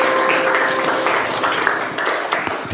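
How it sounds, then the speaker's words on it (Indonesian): Classroom applause for a student after a group presentation in an Indonesian school lesson, a dense wash of clapping and voices sustained throughout, loud and near. "tepuk tangan untuk Reta"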